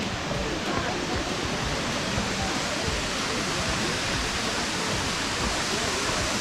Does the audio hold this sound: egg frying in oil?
no